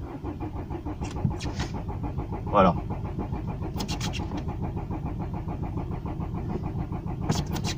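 A car engine cranks repeatedly without catching, a steady pulsing churn from a car just fitted with a new gear-shift linkage, with a person speaking briefly over it.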